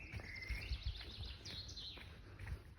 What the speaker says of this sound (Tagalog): Nag-i-enjoy ang mga ibon. Ang ganda ng kanilang awit.